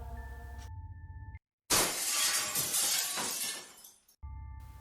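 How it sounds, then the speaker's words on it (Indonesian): Glass shatters in one loud, bright crash followed by scattered tinkling fragments, set between stretches of a sustained tonal drone in a horror story narration. "kami mendengar suara kaca pecah."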